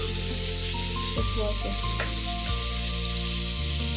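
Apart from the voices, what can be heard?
vegetable (val birde bhaji) frying and sizzling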